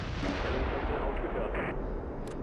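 Artillery and rocket fire from the World War II strategy game Close Combat III, with heavy 8 cm rounds landing near Kharkov: a dense, continuous low rumble of distant blasts and bursts with no clear gaps.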